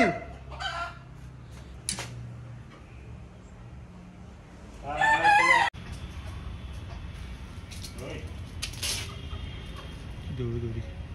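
Chickens cluck and a rooster crows loudly at close range, a strained rising crow in the middle, with a person talking over the scene and scattered clucks and rustling before and after.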